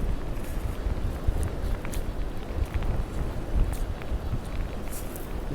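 Gusty wind buffets the microphone continuously on a beach, a dull rumbling roar with occasional louder thumps and crackles.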